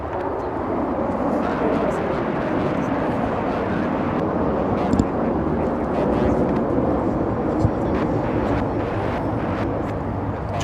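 A jet airliner arriving at Los Angeles International Airport from Honolulu, a loud, steady broadband engine roar that holds throughout, heard fairly close with a voice talking over it.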